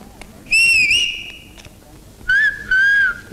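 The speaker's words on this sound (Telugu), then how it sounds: "ఇది మామూలు విజిల్ కాదు పాప, పోలీస్ విజిల్." A police whistle blown in a Telugu comedy film scene: three shrill blasts, a long wavering one followed by two shorter ones, loud and close over faint background noise, with no talk.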